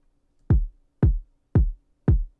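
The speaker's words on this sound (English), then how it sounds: "This is the kick." Four deep, punchy kick drum hits sound alone at an even, steady pace, each with a short booming decay.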